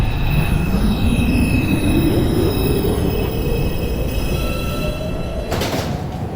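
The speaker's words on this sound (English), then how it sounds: "Uptown Express 5 train approaching the station" A New York subway 5 express train pulls into a station, its loud rumble joined by a rising wheel squeal and screeching brakes as it slows, close and continuous, with a brief clunk near the end.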